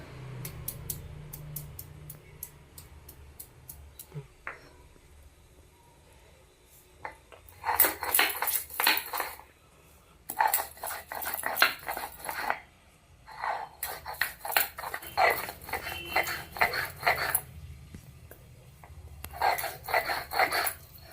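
Ginger cut into small pieces is pounded with a mortar and pestle for a Bengali mutton curry. After a quiet start, bursts of hard, rhythmic knocking and scraping come close and fairly loud, in repeated spells with short pauses.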